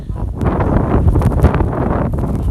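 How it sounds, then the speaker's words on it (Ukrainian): Strong wind blows outdoors after heavy snowfall near a pig enclosure, roaring low and buffeting the microphone loudly and without a break. "Гляньте, що дує."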